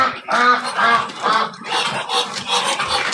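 Ducks quacking close by at a farmyard, a series of loud, nasal, repeated calls in an uneven rhythm, with no talking.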